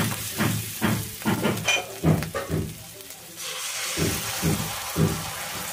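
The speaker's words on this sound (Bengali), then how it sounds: "টমেটোটাও ভালো করে কষিয়ে নিতে হবে।" Tomato paste cooking in a pan with salt, sugar, Kashmiri red chili powder and turmeric, bubbling sizzle broken by repeated stirring scrapes, close up, with brief moments of quieter hiss between strokes.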